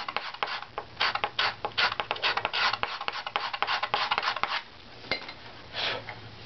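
A violin top plate is scraped down with a steel scraper during tuning, giving a close, dry rasping run of quick strokes for several seconds, then a short pause and one last soft scrape.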